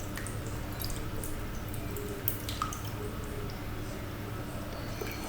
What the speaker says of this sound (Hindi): इस रिंग को हम धो लेते हैं साफ़ पानी से।